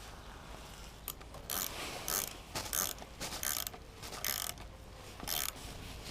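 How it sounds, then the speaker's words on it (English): Thread tap being run lightly through damaged stud threads in a rebuilt Mazda MX-5 cylinder head, giving repeated ratcheting, grinding mechanical bursts in an irregular rhythm, close and fairly loud, with no talking. "I'm just trying to repair the threads with a tap, just lightly running it through"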